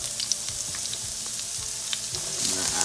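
Onions hit about two tablespoons of hot oil and sizzle loudly and steadily up close, a bright continuous hiss with small crackles and a surge of spitting toward the end.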